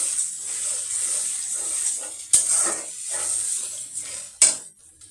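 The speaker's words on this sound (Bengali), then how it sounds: "এখন আমি এখানে এটা একটু ভালো করে কষিয়ে নিব।" A large batch of ginger-garlic paste sautéing in a pan hisses and sizzles continuously, broken by two sharp metallic clanks of a utensil against the pan.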